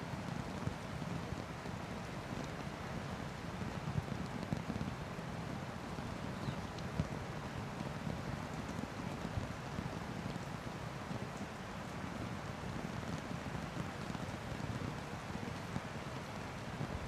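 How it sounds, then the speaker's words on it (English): Heavy rain falling at an outdoor surf contest, the Burleigh Single Fin Festival finals, a constant dense hiss of drops with some wind rumble, steady and moderately faint for the whole stretch. "You know it's raining pretty hard when you see the broadcast staff really looking worried."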